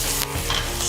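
Chicken laid skin side down in a hot pan with butter, garlic and thyme gives a brief, steady sizzle and crackle of frying, close and fairly loud throughout.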